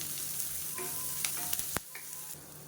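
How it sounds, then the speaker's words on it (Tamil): Carrot and mixed vegetables sauté in a pan for Tamil-style kuzhi paniyaram, giving a steady close sizzle with a few sharp clinks and scrapes of a stirring spoon, no voices. "இப்போ நல்லா வதக்கியாச்சு."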